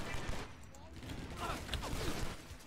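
Rattling gunfire crackles through a shootout in the video game John Woo's Stranglehold, a dense, steady barrage of shots blended with game noise and lasting throughout.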